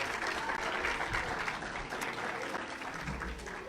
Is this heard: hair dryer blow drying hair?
no